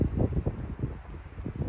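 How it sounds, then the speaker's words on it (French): Low rumbling wind buffets the microphone outdoors beside a Dacia Spring electric car, a steady, muffled roar with uneven gusts and no voices. "Il y a un petit peu de vent, désolé."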